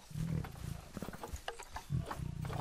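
Bengal tigers in the Planet Zoo video game, low rumbling roars and growls in a few bursts, fairly quiet, with no talk over them.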